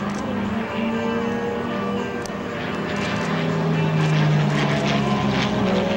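A P-40 Warhawk propeller warplane drones overhead during a loop at an airshow, its engine growling steadily and shifting pitch as it passes, loud and fairly close.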